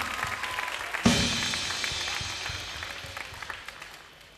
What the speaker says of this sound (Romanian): Hai să mai aplaudăm